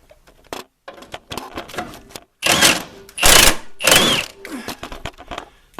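A bolt loosened on a Jeep TJ fender, scattered ratchet clicks followed by several loud bursts of rapid rattling from a power tool, close and sharp.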